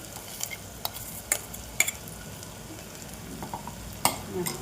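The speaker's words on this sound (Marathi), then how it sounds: "हे हिरवं वाटण परतून घेऊन लगेच टमाटा परतायला घेऊ आपण" Green spice paste of garlic, ginger and chilli sautés in a pan with onions, giving a low, faint sizzle broken by several sharp scrapes and clicks of a spoon stirring against the pan.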